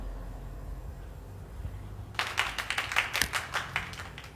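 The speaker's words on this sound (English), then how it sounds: "I literally just heard applause" Applause from a small group heard from outside, faint and distant, starting after a couple of seconds of quiet and continuing as scattered claps.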